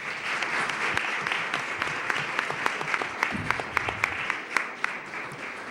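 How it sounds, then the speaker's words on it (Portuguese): A seated audience at a psychoanalysis conference panel applauds the presenters with a steady wash of clapping, with a few louder, sharper individual claps standing out near the end. "pedir uma salva de palmas aos apresentantes"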